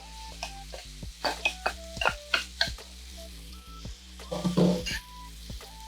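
Ramen noodles going into a pan of coconut-aminos-glazed mushrooms, with steady soft sizzling under a series of clinks and scrapes of utensils against the pan.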